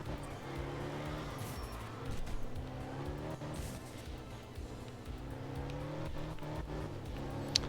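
A Group A rally car in the art of rally game drives hard and oversteers aggressively, its engine revving continuously with rising and falling pitch. The drone is steady and fairly loud, with no one speaking.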